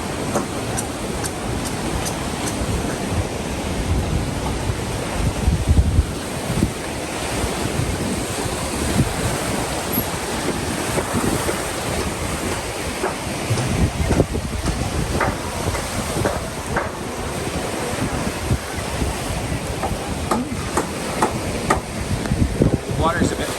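Wind-driven waves on Lake Atitlán in Guatemala, a steady rough wash of choppy water with gusty wind buffeting the microphone throughout, close and continuous.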